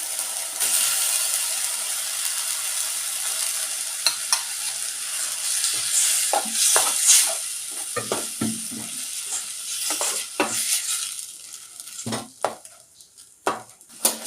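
Tomato paste and curry leaves for a fish kulambu sizzle loudly in a hot pan, followed by a series of close spoon scrapes and stirs as the frying hiss gradually settles.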